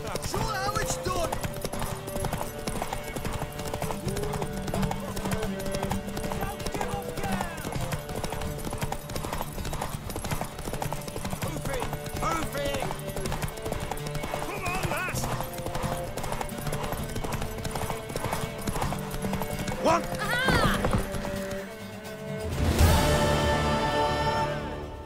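Rhythmic clip-clop of hooves pounding at a fast gallop in The Witcher 3, loud and continuous, with a horse whinnying near the end and speech mixed in.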